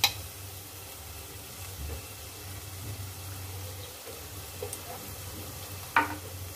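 Turmeric and cumin powder frying in hot oil in a pot for khichuri, a steady soft sizzle throughout with a brief sharper clink or stir near the end, no voices.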